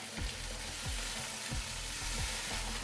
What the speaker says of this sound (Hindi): इसमें हम पानी डाल देंगे।